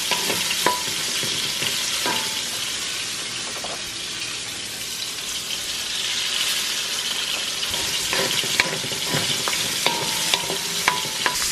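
An egg frying in avocado oil in a pan, with continuous close sizzling and crackling plus occasional sharp clicks of a utensil against the pan.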